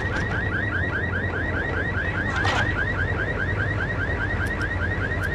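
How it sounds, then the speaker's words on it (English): Car alarms blare in the video game Max Payne, a steady loop of rising electronic whoops repeating over and over at close range, loud and continuous with no voices. "Oh, them car alarms!"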